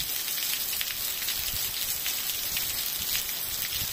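Heavy rain falls steadily and loudly on a Sunday, a dense, even hiss of drops on surfaces that keeps going without a break and with no voices.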